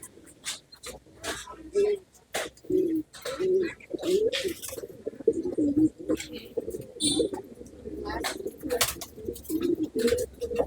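Long-flying pigeon breeds in a pet shop cooing repeatedly in soft, rhythmic low coos close by, mixed with occasional chirps and sharp clatter while someone talks over them.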